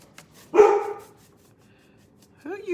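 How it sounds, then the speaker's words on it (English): A single close dog bark stands out in a quiet room, followed a couple of seconds later by the start of a second bark. "Who are you barking at?"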